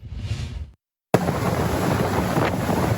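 Boat riding on the water off Port Aransas on a fishing day, with a brief rushing burst, a short silence, then a sustained loud wash of wind and water noise from the moving boat.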